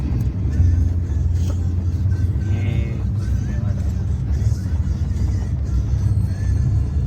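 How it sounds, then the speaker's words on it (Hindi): A car on the road gives a continuous low engine and road rumble heard from inside, steady and fairly loud throughout, with faint voices now and then. "आगे भैया की गाड़ी जा रही है, पीछे से हम लोग जा रहे हैं।"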